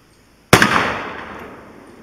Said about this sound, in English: We'll try a shot of that in that heavier pad area there where the bolt holes are